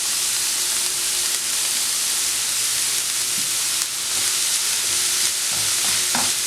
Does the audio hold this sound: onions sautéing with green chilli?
yes